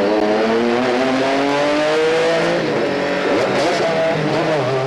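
Race cars scream past at full throttle during a Procar event at Zolder circuit in 2003, a loud continuous engine roar with rising and falling revs as they pass close by.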